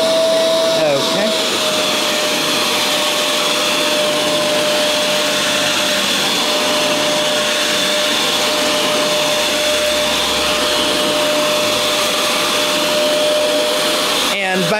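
A Fantom Wildcat vacuum cleaner runs steadily on a small rug, its loud, close motor whine continuing throughout with a constant high tone, starting and cutting off at the edges.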